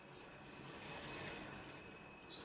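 Goat meat stock carrying bits of fish and ponmo is poured into a thick okra soup paste, making a steady, close liquid pour with a soft gushing splash that runs unbroken throughout.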